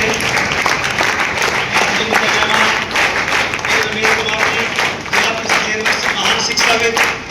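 An audience claps loudly to welcome young volunteers from many states at a national unity camp in Vyaspur, India, producing a dense, sustained burst of applause that swells and dips in waves.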